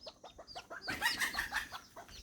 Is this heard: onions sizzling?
no